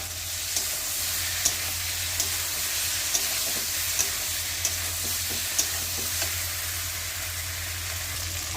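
Eggplant and potato pieces fry in hot oil in a pan, a constant close sizzle broken by regular light scrapes and taps of a stirring spatula roughly every half second, with no voices.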